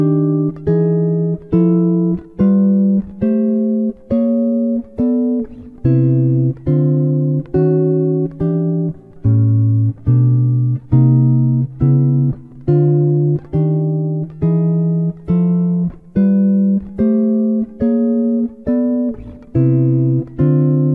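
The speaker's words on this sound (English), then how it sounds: "I'm using all these walking chords to create movement from this basic set of chords" A clean jazz guitar strums chords in a steady walking pulse, each chord plucked and decaying, the moving bass notes stepping along for a long passage.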